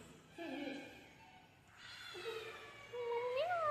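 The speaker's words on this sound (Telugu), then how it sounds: "అరుస్తుందమ్మా మనం వచ్చేసరికి పిల్లి అక్కడ ఒకటి ఉంది చూడు" A cat near a village temple meows several times, drawn-out rising and falling cries, fairly close and moderately loud, with some soft background noise between calls.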